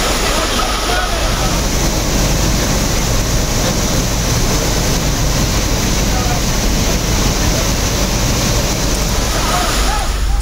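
Courtallam Five Falls waterfall in flood after continuous rain in the Western Ghats, a loud, constant, dense roar of rushing water lasting throughout.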